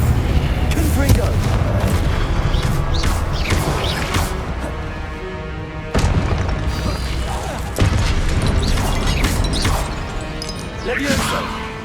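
Confringo blasting spells firing in Hogwarts Legacy, several loud booming explosive bursts with crashing debris, dense and continuous over game battle noise and intermittent voice.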